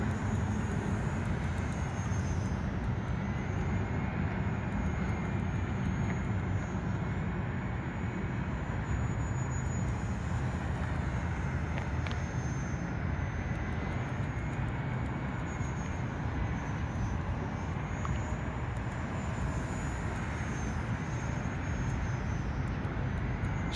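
A radio-controlled F4U Corsair model plane banks through tight circles at about 60% throttle. Its motor gives a steady, continuous drone with no voices, and the level stays fairly even throughout.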